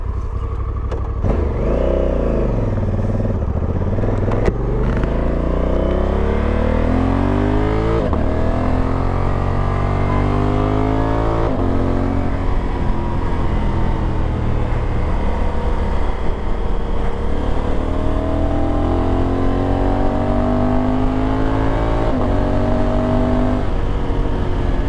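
Honda Africa Twin 1100 adventure motorcycle pulling away and riding on, its engine loud and close throughout, revs rising and falling through several gear changes over a steady rumble.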